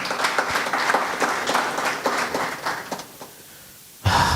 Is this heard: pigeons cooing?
no